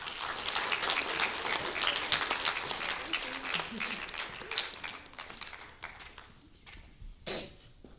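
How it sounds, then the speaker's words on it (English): Audience applause at a school spelling bee rings out as a dense burst of clapping that gradually thins and dies away, with a few last claps near the end. "Please give everybody a round of applause."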